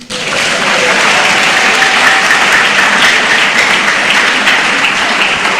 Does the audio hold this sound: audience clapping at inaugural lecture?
yes